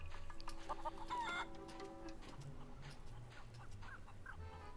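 A chicken in the Curse of Monkey Island game gives a short run of clucks over a soft musical backdrop, fairly quiet, followed by the lingering ambient score.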